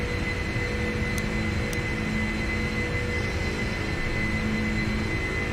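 Steady, loud engine drone of a cargo airplane climbing just after takeoff, heard from inside as a constant broadband roar with a faint whine and no talk.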